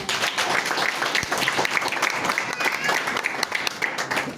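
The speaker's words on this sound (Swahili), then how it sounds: "wapigeni makofi" An audience claps at a community event for persons with disabilities in Kibera, a dense, sustained patter of applause running steadily throughout with no break.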